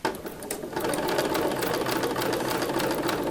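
A sewing machine set to a 2.5 stitch length runs steadily while stitching around a fabric circle for a cathedral window ornament, giving a close, continuous whirring drone with no talking.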